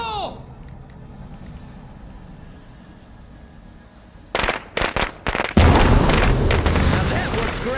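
Grenade explosion in the snowy State of Decay 2 video game, a loud sudden burst of booming blasts with crackling bursts that continues loudly to the end after a quieter stretch.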